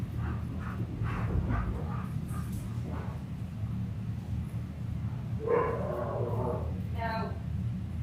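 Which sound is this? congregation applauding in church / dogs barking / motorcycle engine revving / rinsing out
dogs barking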